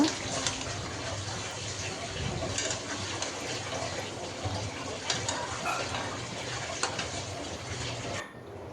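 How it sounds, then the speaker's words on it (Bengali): Water pours steadily into a pot of sweet pumpkin for several seconds with a continuous splashing rush, then cuts off near the end. "তো মিষ্টি কুমড়াটাই তো এখন একটু পানি অল্প করে দিয়ে দিব"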